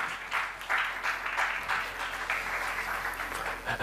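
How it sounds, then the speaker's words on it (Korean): An audience at a Korean TV drama production press conference breaks into applause, a sustained wash of many hands clapping with slight swells in intensity throughout. "박수 부탁드립니다"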